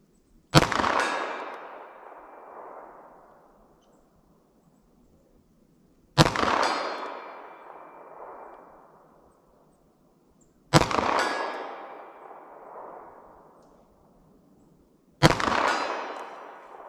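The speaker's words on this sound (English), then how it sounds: "let's see if I can hit that target from 75 yards with our 9mm" Four separate 9mm pistol shots are fired with cheap PPU Serbian defense ammo at a target 75 yards away. Each one is a loud sharp crack with a long ringing decay, spaced several seconds apart outdoors.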